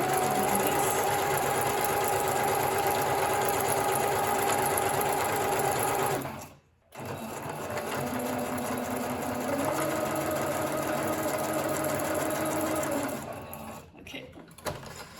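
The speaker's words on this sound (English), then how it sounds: "while I was stitching, moving around with the buttons for the stitch length and the stitch width, which resulted in this broken machine stitch" A domestic sewing machine stitches steadily and loudly, its hum shifting in pitch as the stitch length and width are changed mid-seam, with one brief stop partway through before the motor picks up again.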